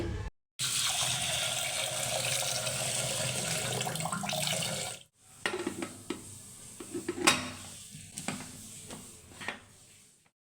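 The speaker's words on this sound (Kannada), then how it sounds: "ಅಲಸಂದೆ ಕಾಳನ್ನ ಕುಕ್ಕರಲ್ಲಿ ಚೆನ್ನಾಗಿ ತೊಳೆದ್ಬಿಟ್ಟು ಬೇಯಿಸ್ಕೊಳ್ತಾ ಇದ್ದೀನಿ" Black-eyed peas washed in a pressure cooker: running water pours steadily for several seconds, then cuts out and gives way to sloshing, rinsing and clinks of metal, close and moderately loud with no talk.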